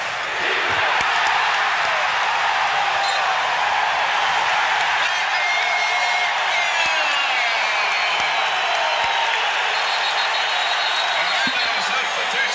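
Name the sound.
basketball crowd yelling for defense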